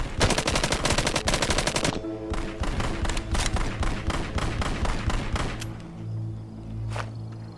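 Rapid, loud gunfire bursts from a game weapon in Arizona Sunshine, fired as a fast string of close shots, a brief pause, then another volley that thins out to a final lone shot.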